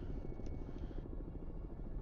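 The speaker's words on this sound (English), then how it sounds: "Oh, a helicopter?" A helicopter flies in the submarine video game Cold Waters, its rotor making a faint, rapid, steady chopping thump for about two seconds.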